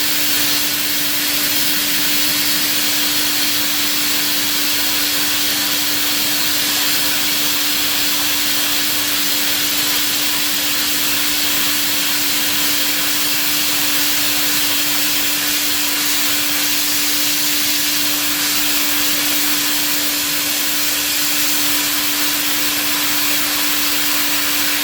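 A Mapal Tro Uni 6 mm end mill cuts at 18,000 RPM and about 300 inches a minute, giving a loud, unbroken roar of hissing chip noise with a steady high whine held for the whole stretch.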